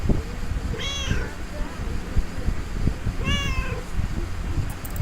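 Mortimer the cat meows twice in the video game Lake, two clear drawn-out calls about two and a half seconds apart over a busy, steady background ambience.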